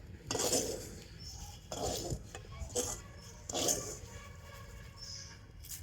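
Fried chickpeas being scooped from a pan with a metal strainer, several distinct scraping clinks and rattles in separate bursts, fairly quiet and close, with no talk.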